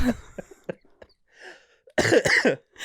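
Several short coughs and throat-clearing sounds, sparse at first, then a louder burst of two or three harsh coughs close up.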